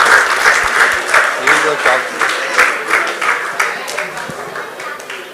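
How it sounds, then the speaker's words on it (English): Audience applause at an awards ceremony, a steady wash of many hands clapping with rhythmic swells, fairly loud and close, with some voices mixed in underneath throughout. "Let's have a round of applause, ladies and gentlemen."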